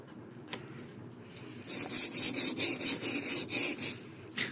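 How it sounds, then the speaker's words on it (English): Tool blade stroked back and forth on a water-lubricated sharpening stone, about ten rhythmic rasping scrapes in steady succession, close and fairly loud after a couple of soft taps. "And then sharpen."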